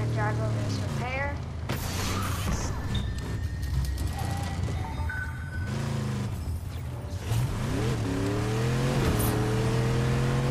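A car drives in the video game Fortnite. Its engine drones and revs steadily throughout, with pitch sweeping up and down as it accelerates, and other game effects and voices sit over it.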